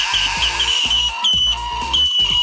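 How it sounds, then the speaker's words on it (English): A demonic-sounding toy cyber giraffe screeches with a steady, piercing electronic whine over a rapid, pulsing low buzz, loud and continuous throughout. "Like maybe this demonic cyber giraffe that I totally want for Christmas."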